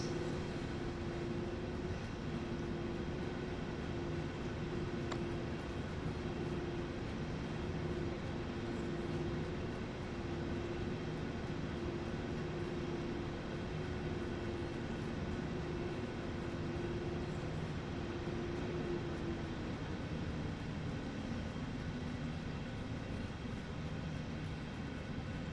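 A train in Train Sim World 3 runs past a signal, giving a steady low rumble of wheels and traction with a faint sustained tone sliding slightly lower near the end, fairly quiet and with no talk.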